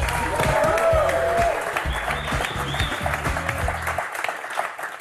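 A studio audience at a French word game show applauds loudly, a thick burst of clapping that gradually thins and fades out, with a host's voice speaking over it.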